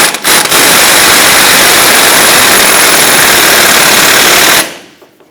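An impact tool snugs down an axle nut on a Hummer H3, giving a very loud, continuous rapid hammering rattle for about four and a half seconds, close by, then stopping.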